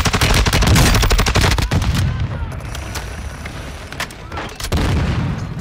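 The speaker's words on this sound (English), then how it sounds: "Throwing grenade!" Grenade blast and bursts of gunfire in a Call of Duty Warzone quads match on Ashika Island, loud and dense with repeated sharp shots and booms, fading into a quieter stretch before another burst near the end.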